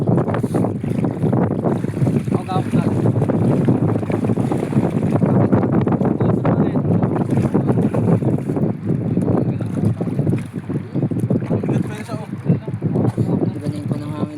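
Wind buffets a microphone aboard a fishing boat on Laguna Bay, a loud continuous rumble and roar with gusty swells, while people talk over it.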